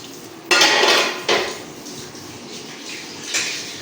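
Dishes and pots handled in a home kitchen while washing up, with sharp metallic clanks and clatters in a few separate bursts, close and loud, with quieter rattling between.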